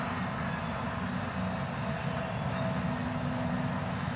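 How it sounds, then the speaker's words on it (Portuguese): Train passing near the Calais tunnel entrance, a steady low rumbling roar with a faint tonal hum, continuous and moderately distant, with no talk. "Olha lá, escuta lá o trem."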